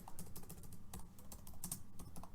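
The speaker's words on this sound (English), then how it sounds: "typing drunk is hard" Fast, steady typing on a computer keyboard, a dense run of close, crisp key clicks with no voices.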